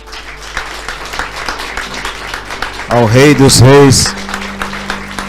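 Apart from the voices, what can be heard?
congregation applauding in church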